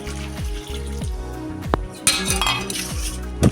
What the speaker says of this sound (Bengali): অতঃপর টুকরো করে রাখা ইঁচড় যোগ করে ভালোভাবে নাড়িয়ে নেওয়া হলো